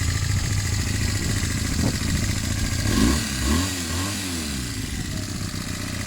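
A Honda CB250 Nighthawk café racer project bike runs steadily at a slightly smoky idle, near and loud, with a brief blip of revs that rises and falls before settling back.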